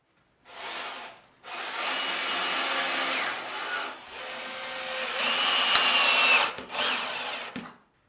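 A power drill driving screws to fix a wooden batten to a stud, heard as several loud, close whirring bursts of a few seconds each separated by short pauses, with a faint pitch change as the screw seats.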